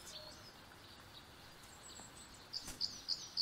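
Faint outdoor ambience, then a few short, high bird chirps near the end, repeating in a quick uneven series.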